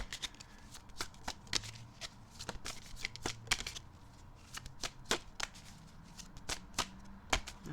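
Tarot cards are shuffled up close in a quiet room. Crisp, papery riffles and sharp snapping flicks come in quick irregular bursts throughout.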